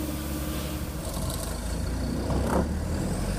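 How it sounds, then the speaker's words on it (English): An air compressor for a Clemco Flex blast machine runs steadily as it starts up, a loud, continuous engine-like drone that swells briefly with a hissing burst partway through. "go over and properly start the compressor"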